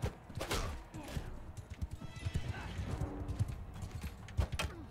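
Horse hooves clip-clop in rapid, uneven beats during a battle in the Mount & Blade II Bannerlord medieval combat game, mixed with clashing effects and someone talking over them.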